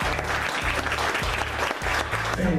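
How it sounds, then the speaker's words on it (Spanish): A church congregation claps in steady applause, dense and continuous for a couple of seconds, with a low background hum underneath. "así que hoy quiero que recibamos a Dorian y le demos un aplauso al Señor, por favor."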